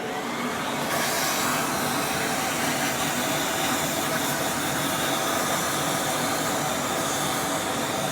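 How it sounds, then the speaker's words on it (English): Vacuum cleaner sucking debris out of a Ceado E37S coffee grinder, a loud, continuous whooshing drone that starts after a brief quieter moment and holds steady close by. "we'll vacuum in there, and then we'll try and vacuum out the chute"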